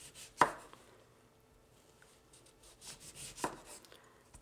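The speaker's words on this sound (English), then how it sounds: "I'm going to slice my lemon" A knife cuts thin slices of lemon on a board, giving two distinct, fairly close chopping strikes about three seconds apart with quiet gaps between them.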